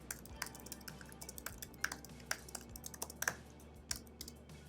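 Fingers typing on a computer keyboard while searching for a paint colour's hex code: quick, irregular clicks and key taps, close and fairly quiet over a low steady hum.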